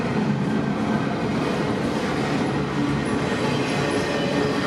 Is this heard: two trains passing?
yes